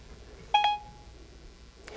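A short two-tone electronic chime sounds from a phone as Siri activates to open the Kardia health app. The chime is brief and clear over a quiet room, and a faint click follows.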